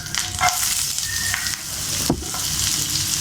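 Sliced onions sizzle in hot oil with cumin seeds and curry leaves, a steady close crackle of frying with a few sharper pops and stirring scrapes.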